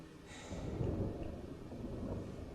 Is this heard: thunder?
yes